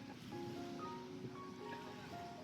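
Gentle surf washes onto a clean white-sand beach on Phi Phi Island near Phuket, a faint, steady wash with a little wind and a soft tonal hum in the background.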